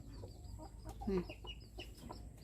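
Bantam chickens on a farm in Chanthaburi give a few soft, close clucks over a steady low farmyard hum, with no talking.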